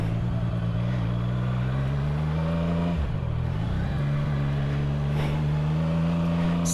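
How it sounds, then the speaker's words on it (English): A CFMOTO 675SS motorcycle floored in a high gear, its engine giving a steady, loud droning roar with a strong low harmonic hum that dips briefly midway and then holds on, close and continuous. "Let's put it in a really high gear and floor it, hear the motorcycle roar."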